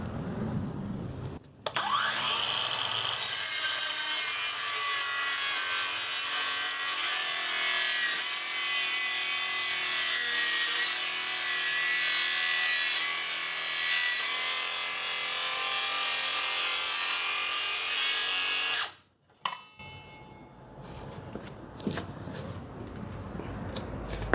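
Hanabi cordless brushless circular saw making a 45-degree cut through wood: a loud, steady high whine runs for about seventeen seconds, cuts out abruptly, then gives way to softer clattering and handling noise.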